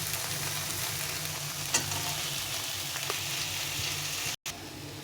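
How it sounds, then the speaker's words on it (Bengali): Potatoes sauté with spice masala in a pan, a steady close sizzle with occasional spatula scrapes and stirring clicks, broken briefly by a short cut near the end. "আলু দিয়ে এটাকে ভালো করে একটু আবার কষিয়ে নিতে হবে কিছুক্ষণ ধরে।"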